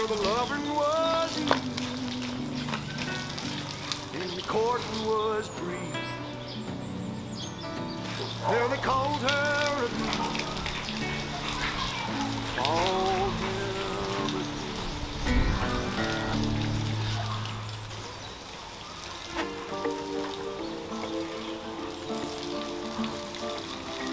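A landscaped garden waterfall gives off a continuous splashing rush of water. Lovebirds chirp and whistle throughout, rising and falling over the steady flow.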